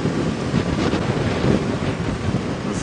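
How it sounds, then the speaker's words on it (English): Gusting wind buffets the microphone outdoors on a safari drive, a loud, rough, continuous low roar that swells and eases, with no voices. "this gusting wind"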